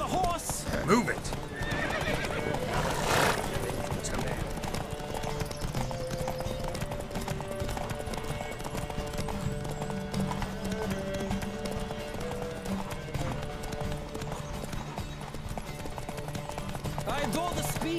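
Horses gallop with steady rapid clip-clop hoofbeats and repeated neighs during a race in The Witcher 3, set against a continuous game music bed with occasional voices.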